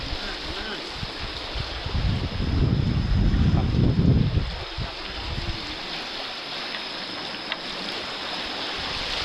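Water splashing as fish are scooped from a river with a net, a broad wash of churning water that swells loudest in the middle and then settles into steady flowing noise.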